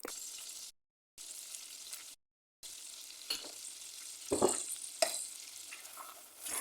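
Flour roasting in butter sizzles softly in a pan while a utensil scrapes and stirs it, with a few louder scraping strokes and brief moments of silence.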